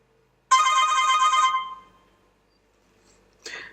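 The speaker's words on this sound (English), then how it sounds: "So we received a phone call." A LEMFO LEM 8 Android smartwatch rings with an incoming phone call: a bright one-second electronic ring burst that fades out, then a second burst begins, close and clear.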